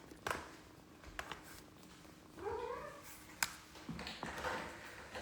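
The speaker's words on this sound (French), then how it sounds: "Et ça ronronne." A cat purrs close up, with a few sharp taps and rustles and a brief whiny vocal sound partway through.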